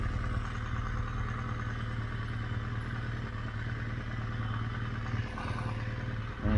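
A BMW R1200GSA adventure motorcycle idles steadily on a green lane with a low, even boxer-engine thrum and light mechanical clatter as it is shifted into neutral, with a brief louder burst at the very end.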